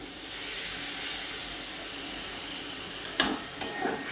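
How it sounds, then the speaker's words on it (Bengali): Water is poured into a hot pan of papaya and mung dal, a steady steamy hiss that ends with a sharp burst of sizzle and a few stirring clatters. "এবার আমি পরিমাণ মতো জল দিয়ে দিচ্ছি"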